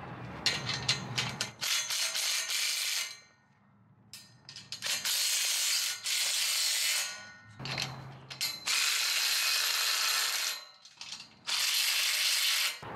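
A ratchet with a 14mm socket tightens clamps on steel horse stall panels, giving loud, rapid bursts of clicking pawl strokes separated by short pauses.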